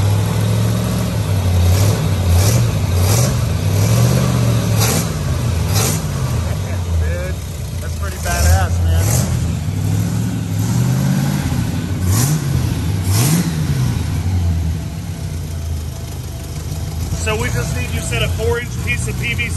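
A Chevy Mule with a 350 engine, just tuned up after running on grungy plugs, revs repeatedly in loud close rising-and-falling bursts over an idle, with voices talking in the background.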